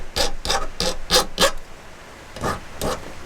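A hand file rasps along the beveled edge of a knife handle piece held in a vise, making five quick strokes in a steady rhythm, then a pause, then two more strokes, each a crisp, close, scratchy sweep.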